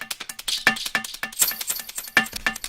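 An ominous electronic loop from a music production session with a sixth-note delay effect, sounding as a run of rapid, bright percussive hits with echoing repeats in a steady, busy pattern.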